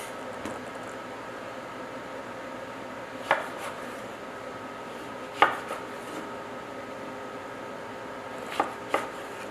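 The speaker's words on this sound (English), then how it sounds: "Cut the bottom, give it a nice little base to work with, and then go half." A knife cuts through a fresh orange on a cutting board, with four or five sharp taps and thunks spaced seconds apart over a quiet kitchen background, no talking.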